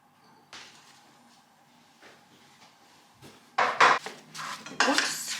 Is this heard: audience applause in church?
no